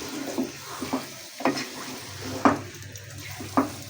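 Chicken sizzling in a hot pan for a palak gosht curry, with four or five distinct scraping stirs of a spoon against the pan over a continuous frying hiss, no talking.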